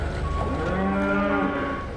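Cattle moo at the cattle rings of a livestock market, one long, loud, close bellow with a drawn-out, wavering pitch lasting most of two seconds over steady farmyard background.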